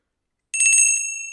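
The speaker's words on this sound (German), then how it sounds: "wir müssen jetzt ausnahmsweise es schmattes Glockerl missbrauchen" A small bell rung once at a Viennese song livestream, a bright metallic ding starting after a short silence, close and clear, with a ringing tone that slowly fades.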